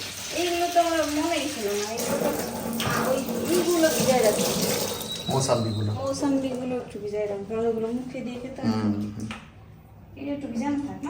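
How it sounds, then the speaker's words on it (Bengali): Apples being washed under running tap water, a continuous splashing flow close by, with someone talking over it for much of the time. "ভালো করে ধুয়ে কচলে কচলে ধুয়ে রেখে দাও"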